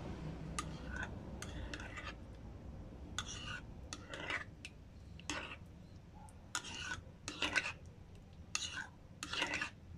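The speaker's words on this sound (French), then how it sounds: "Nous pouvons mélanger bien" A homemade eye serum is stirred after oil is added, giving soft, faint scraping and clinking strokes from a utensil in a small container, coming in irregular bursts.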